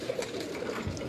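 Pigeons cooing in a loft, a soft low throaty coo heard briefly and close by, faint and alone.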